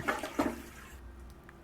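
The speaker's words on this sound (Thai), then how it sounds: "ต้องเปิดส้วม แล้วก็ล้าง" A toilet flushing in the horror video game Midnight Market, a short rushing gurgle of water with a louder burst near the start before fading into a quieter trickle.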